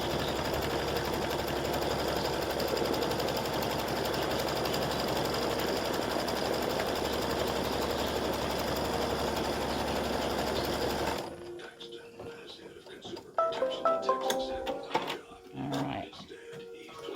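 An embroidery machine stitches a tack-down line on an in-the-hoop mug rug panel, a loud, steady, fast mechanical whir for about eleven seconds that then stops, followed by quieter handling sounds and clicks.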